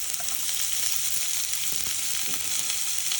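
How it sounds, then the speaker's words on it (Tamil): Chopped onions dropped into hot oil with fennel seeds sizzle and fry steadily, a dense close crackle with occasional stirring scrapes, no voices. "இப்போது வெங்காயம் போட்டுக்கலாம்."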